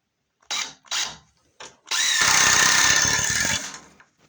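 A power drill driving screws into a shelf: two short whirring bursts and a brief blip, then a sustained loud whine of a screw being run in for nearly two seconds before it cuts off.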